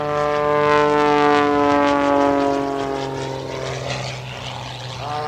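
Aerobatic propeller airplane hanging nose-high in a slow high-alpha pass at an air show, its loud steady engine and propeller drone showing clear harmonic bands that slowly shift and fade slightly.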